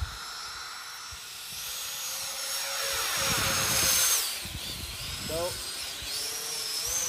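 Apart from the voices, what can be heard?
70mm EDF drone ducted fan motor running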